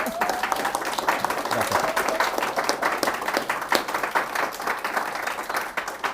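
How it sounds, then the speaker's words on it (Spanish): An audience gives a speaker a big round of applause, sustained and fairly loud clapping throughout, with a voice briefly saying thanks over it. "nuevamente un gran aplauso"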